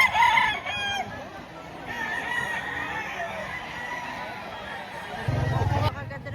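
A bull stag gamecock crows loudly and nearby at a busy poultry market in Lipa, Batangas, with a background murmur of voices and a brief burst of clucking near the end.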